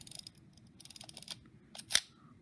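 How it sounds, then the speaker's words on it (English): Film advance being cranked on an Ihagee Exakta SLR film camera: a quick run of close ratcheting clicks, a few more clicks, then a sharper mechanical snap. "So we would crank it."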